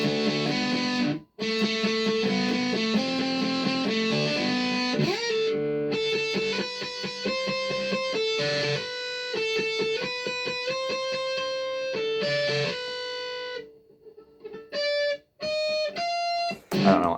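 Electric guitar solo from a song, played loud and alone as a run of sustained, bending lead notes with short breaks and a brief pause near the end.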